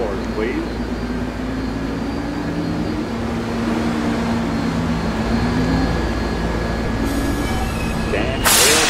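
An R160 subway train on the New York City L line gives a steady rolling rumble with a faint rising motor whine, and a sharp burst of door or brake noise near the end.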